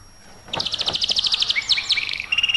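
A songbird chirps in quick repeated high notes, then sweeping whistled calls, fairly close and clear over a quiet background for about two seconds.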